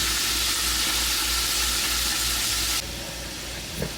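Fish fries in hot oil until golden brown, giving a loud, close, continuous sizzle that drops to a quieter crackle after about three seconds, with a small clink near the end.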